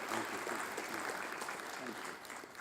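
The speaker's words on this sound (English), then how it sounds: "I think a big round of applause" Audience applause at an interactive business session, a steady dense clapping wash throughout with a speaking voice layered over it.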